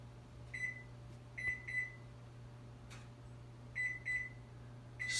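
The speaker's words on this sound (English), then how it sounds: "We'll set the timer to 30 minutes." An oven timer being set beeps in short, sharp bleeps, some single and some in quick pairs, spread over a few seconds against a low steady hum in a quiet kitchen.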